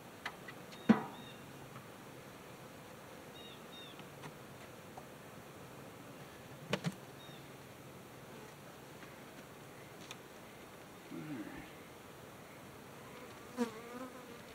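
Honey bees buzzing around an open beehive outdoors, a faint steady drone with a few brief louder passes close by, no talking.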